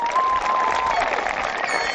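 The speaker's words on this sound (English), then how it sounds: "Let's all give them a round of applause for their sacrifice and service to our country." Audience applause at a commencement ceremony, a dense wash of clapping from a large crowd that holds steady for a couple of seconds without pause.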